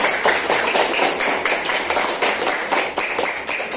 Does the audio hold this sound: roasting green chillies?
no